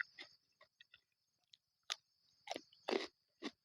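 Crisp, crunchy biting and chewing close to the mic, with about eight irregular bursts of crackling crunch that grow louder toward the end, set against a faint steady high hum and no talking.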